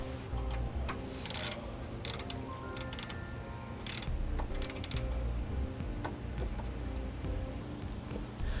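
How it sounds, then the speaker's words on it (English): A ratchet with a 3/8 socket tightens a nut on a battery charge line wire in a 2015 Tiffin Allegro motorhome, giving several short bursts of clicking close by against a steady background hum. "we'll tighten down the nut using a 3/8 socket"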